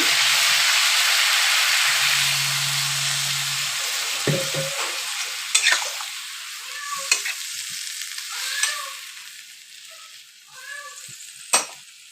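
Pumpkin greens sizzle steadily in a hot pan, with a brief splash as a little water is poured in, followed by a few scraping stirs and quieter hissing.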